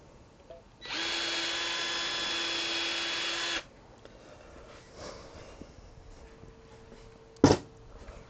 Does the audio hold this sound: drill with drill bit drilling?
yes